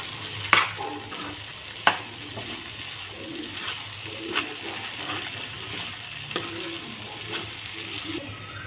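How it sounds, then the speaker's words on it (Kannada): Sabudana khichdi with ground peanuts frying in oil in a pan, giving a steady low sizzle with occasional scraping stirs and clinks of a spoon against the pan, no voices over it. "ಇದು ಒಂದು 2 ನಿಮಿಷ ಇದು ಎಣ್ಣೆ ಒಳಗೆ ಫ್ರೈ ಆಗಲ್ರಿ"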